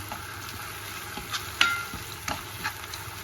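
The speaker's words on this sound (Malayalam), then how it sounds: "നന്നായി ഒന്ന് മിക്സ് ചെയ്യാം." Tomato masala being stirred in a pan for tomato pulao, a low steady sizzle broken by a few light scraping and clinking stirs, close and quiet with no talk.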